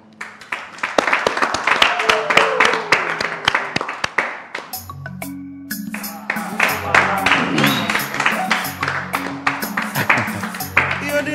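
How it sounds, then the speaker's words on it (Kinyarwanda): An audience at a live performance greets the performer Rwema with scattered, irregular clapping that thickens and fades. Sharp individual claps are heard alongside voices and sustained tones. "amashyi menshi cyane kuwo bita Rwema aza hano imbere"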